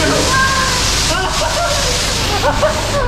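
Water pistol spraying at a car wash, a continuous loud hissing and sloshing jet of water with people talking and shouting over it.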